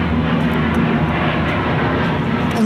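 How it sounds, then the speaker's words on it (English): An airplane passes overhead outside a parking garage in Roanoke, producing a loud, steady engine roar with a low droning hum that fills the short stretch without any talking. "Look, there's an airplane."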